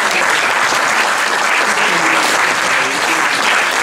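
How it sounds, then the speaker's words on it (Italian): Loud, dense audience applause fills the room for a book presentation, a continuous close wash of many hands clapping at an even level with faint murmuring beneath. "qui occorre fare l'applauso"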